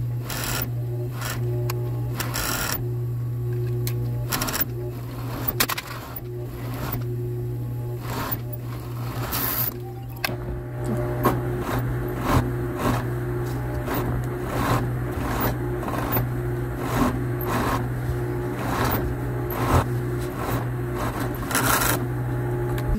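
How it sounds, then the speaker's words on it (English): Serger overlock machine stitching sweatshirt fabric, a steady motor hum with repeated short runs of rapid stitching and brief pauses, close and fairly loud with no talking. "Now I'm going to serge both this and the top."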